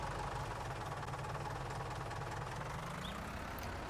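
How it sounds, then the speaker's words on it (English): A tractor engine idles in Farming Simulator 19, a steady low diesel rumble with a faint rising tone near the end, continuous and alone with no talking. "try to remember how to start the engine"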